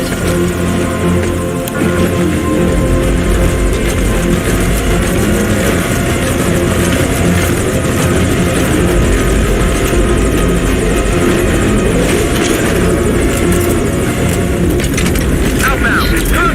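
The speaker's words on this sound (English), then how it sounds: "Now get in the chopper." A helicopter in the video game Metal Gear Solid V: Ground Zeroes gives a loud, steady rotor drone that runs unbroken for the whole stretch, thick with low throbbing and engine whine.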